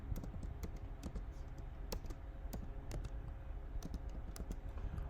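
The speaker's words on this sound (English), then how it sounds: "So I will just type the name quickly." Quick typing on a computer keyboard while a customer name is entered into an online shop's sales ledger, a steady stream of close, crisp key clicks with a few sharper taps, no talking.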